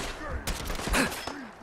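Gunfire from a combat shotgun in the Fallout 4 video game: several sharp, booming blasts in quick succession, loud and close, with a voice briefly audible between shots.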